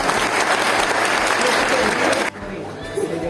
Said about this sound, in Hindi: आप लोगों से निवेदन करता हूं जोरदार तालियां बजाकर